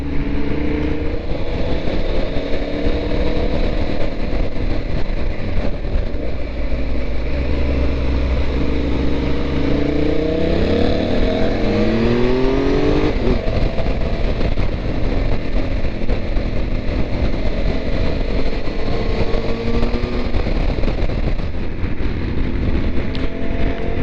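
A group of motorcycles rides close together on a tour through the Pyrenees and Picos, engines droning and revving with shifting pitch under heavy steady wind rush, loud and continuous, no speech.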